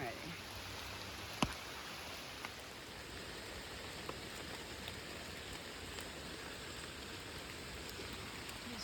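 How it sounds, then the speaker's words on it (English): Steady rain falls on the Appalachian Trail in damp woods, an even hiss of drops pattering on surfaces throughout, with one sharp close tap early on and no talking. "It's raining,"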